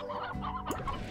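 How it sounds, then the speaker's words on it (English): Briar hens from the video game Slime Rancher cluck in short, close, clipped bursts, a few quick fowl-like calls in a brief moment with light background game sounds. "I'm gonna get some briar hens, I think."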